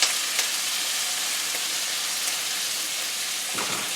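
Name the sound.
bell peppers and onion frying in oil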